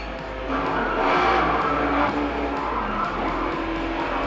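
AMG virtual race-track simulator producing racing car sounds: a continuous engine roar with tire squeal and skidding, loud and close, in an indoor showroom space.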